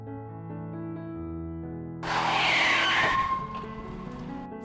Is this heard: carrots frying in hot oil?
no